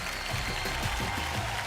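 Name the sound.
audience applause at an award show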